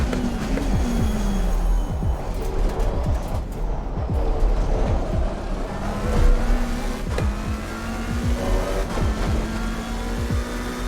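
A race car laps Monza in a sim racing game, its engine droning loudly and steadily, pitch sweeping up through the gears and dropping under braking, with repeated upshifts and downshifts and no talk.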